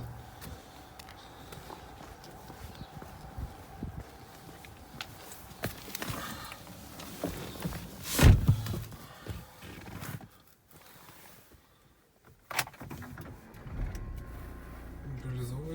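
A 2013 Renault Scenic engine cranks and catches in a short loud burst midway, then settles to a low idle, with some voices and clicks around it.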